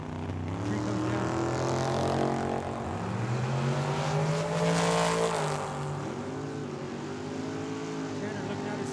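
A dragster and a race car launch side by side at Tucson Dragway during a drag racing event, engines roaring loud and close with rising, shifting pitch over steady crowd and track noise, a commentator talking throughout.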